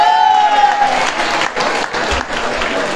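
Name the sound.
audience applause at a celebration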